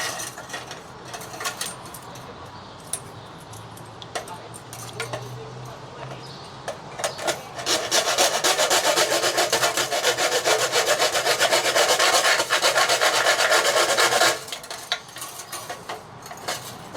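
A hand tool sawing or filing through small wooden pieces one after another, first in scattered scrapes and clicks, then a long steady rasping stroke for several seconds before it stops, with a little background clatter.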